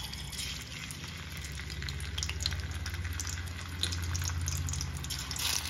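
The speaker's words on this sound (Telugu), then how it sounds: "ఆయిల్ లైట్ గా హీట్ అయ్యాక ఇందులో చాప ముక్కలను వేసుకోవాలండి" Dried salted fish pieces fry in two to three tablespoons of lightly heated oil with a continuous, even crackling sizzle that builds slightly and holds steady, close up and with no talking.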